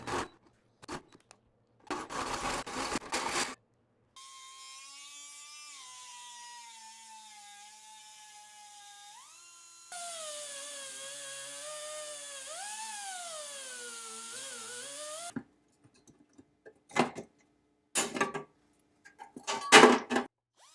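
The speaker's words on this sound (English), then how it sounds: "If you've never used a 4-inch hole saw and a hand drill on sheet metal" Harsh bursts of metal grinding and cutting with a 4-inch hole saw on a hand drill through sheet metal alternate with long, high whining drill tones that rise and dip in pitch, loud and close, with no talking.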